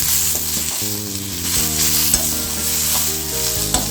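Onion and tomato sautéing in a pan for a sprouted green mung bean curry, a steady close sizzle with scraping stir strokes throughout, tonal background hum underneath, no talking.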